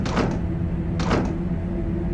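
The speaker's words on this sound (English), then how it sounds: "that's the door sounds of my death" Door sounds in the horror video game Unsound: two separate swishing, scraping movements about a second apart over a steady low hum, with no talk.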